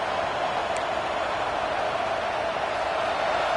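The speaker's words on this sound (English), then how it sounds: "This crowd bringing the energy and noise early." Steady roar of a stadium crowd in the NCAA 26 college football video game, a dense, continuous wash of cheering and noise holding at an even level throughout with no distinct voices standing out.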